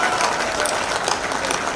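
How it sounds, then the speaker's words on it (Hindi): A crowd at the Golden Mahotsava event claps in a dense, steady patter for a brief moment, fairly loud and continuous. "सारे लोग ताली बजा रहे हैं।"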